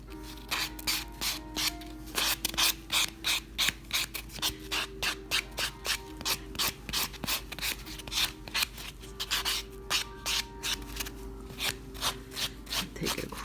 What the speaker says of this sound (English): Now we can just give this a light buff with our buffing block.